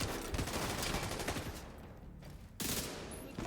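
Enemy gunfire from cover in the game The Division 2, rapid automatic bursts rattling close and loud, cutting out briefly before a fresh burst resumes.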